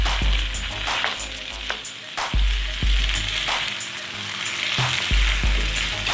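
Mixed vegetables fry in a hot pan while being stirred, a loud continuous sizzle broken by repeated spatula clatters and scrapes at a steady pace, close up with no speech.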